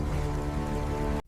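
Steady rain falling on a stormy night, a dense even hiss with a low hum underneath that cuts off abruptly at the end.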